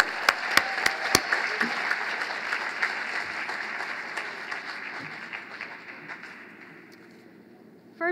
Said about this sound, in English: Large round of applause.